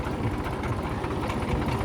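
A tractor running a farm machine gives a steady, loud, low diesel rumble with a rhythmic knocking throb that carries on without a break the whole time.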